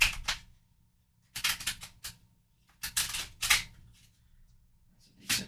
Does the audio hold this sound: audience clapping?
no